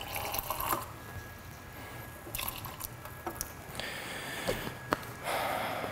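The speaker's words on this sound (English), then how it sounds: "Yeah, we'll add some water." Water is poured into soup in a home kitchen, a faint trickling fill with a few soft splashes and drips at low level.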